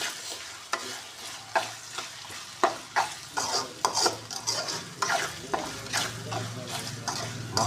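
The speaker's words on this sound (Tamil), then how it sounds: "வெங்காயம் நல்லா வதங்கணும்." Onions being stirred and sautéed in a pan for curry, a steady frying sizzle broken by repeated scraping strokes of a utensil against the pan in an irregular rhythm.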